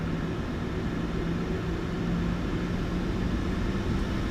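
Boeing 737-900ER jet engines in a flight simulator spool up for takeoff, giving a loud, steady broadband roar with a faint low hum running unbroken throughout and no voices.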